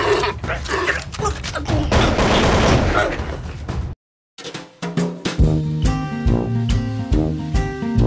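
AK-47 gunfire in a movie scene, a dense run of rapid, loud shots for several seconds, followed by a brief silence and then music with voices.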